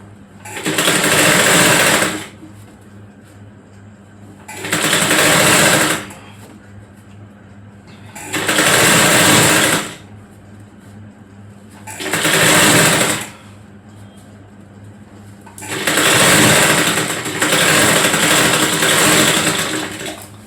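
Electric sewing machine stitching the seam of a girl's frock, running in five loud bursts of about two seconds each, with short pauses between and a longer final run.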